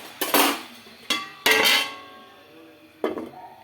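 Metal lid set on a cooking pot in a home kitchen while potatoes simmer, giving a few sharp clanks and rattles, a pair close together and another a moment later, each followed by a short metallic ring.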